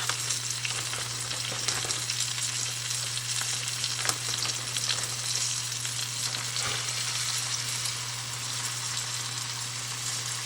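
Chicken browning in butter in a pan, a continuous crackling sizzle with a steady low hum underneath, close and even throughout, occasional pops and no talking.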